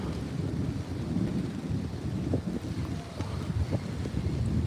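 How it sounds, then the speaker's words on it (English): Steady rain and gusty wind sweep across a fishing pier in a storm, a continuous low rumbling wash with scattered patters and occasional faint knocks, fairly loud and close with no voices. "it started to rain a little harder"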